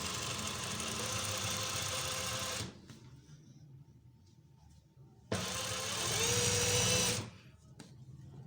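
Sewing machine stitching a shirt cuff, a steady close mechanical whir running continuously, stopping for a few seconds of quiet, then starting again and running before cutting off.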